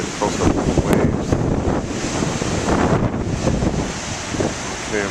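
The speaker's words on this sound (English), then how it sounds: "I'm going to hold the microphone on the waves" Big ocean waves breaking close to the shore, a continuous rushing surf with wind buffeting the microphone, heard up close and loud with no talking.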